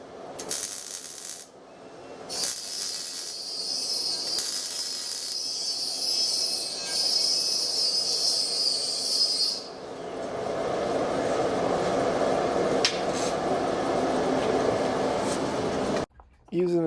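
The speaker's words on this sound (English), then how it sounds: "Using a stationary grinder here to grind the smaller angle pieces at a bevel." A stationary grinder bevels small steel angle pieces, giving a sustained high-pitched grinding whine that breaks off and gives way to a lower, rougher steady grinding roar, loud and close.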